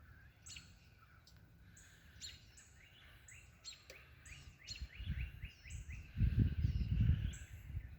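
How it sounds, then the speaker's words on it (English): A bird calling outdoors, a series of short, bright chirps repeated in quick succession at a moderate distance, with low rumbling background noise swelling toward the end. "Sounds like one bird coming from this way."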